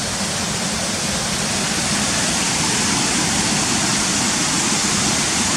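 Cotter Force waterfall roars steadily below a viewpoint by a bridge, a continuous broadband rush of falling water, close and loud, with no voices.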